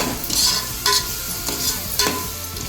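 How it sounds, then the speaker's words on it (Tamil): Tomatoes sauté in hot oil while a spatula stirs them, with rhythmic scraping strokes about every half second over a constant close sizzle. "சீக்கிரம் தக்காளி மசிஞ்சு வரும் நல்லா தக்காளி வதங்கணும்"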